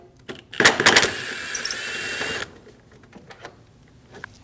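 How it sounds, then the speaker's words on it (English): A 10mm socket tool whirs briefly while backing out a headlight bolt on a 2012-2022 Volkswagen Passat, a loud two-second burst followed by faint metallic handling noises, close by. "Using a 10mm socket, we're going to remove the bolt in the back right of the headlight."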